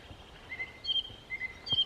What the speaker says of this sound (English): You see there again, that's the song thrush.